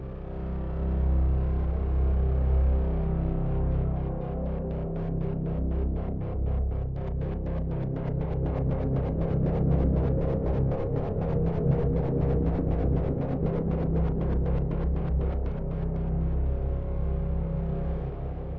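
A pulsing synthesizer pad throbs in steady rapid beats over a sustained low drone, loud and continuous with no voices, the pulsing gradually thinning toward the end.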